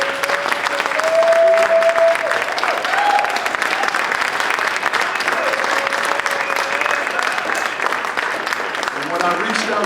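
Audience applause at a restoration of civil rights event, sustained and fairly loud clapping from a crowd across the whole stretch, with a few voices mixed in.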